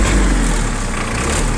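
A PROGRES four-wheel-drive mini tractor's engine runs steadily, a loud dense broadband drone with a strong low rumble that holds constant throughout the short stretch.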